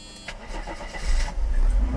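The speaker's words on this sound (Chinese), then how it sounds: "好，大哥发动引擎了。" A warm Mercedes-Benz R129 300SL cranks and fires, a brief starter whir building into a low engine rumble that grows louder toward the end.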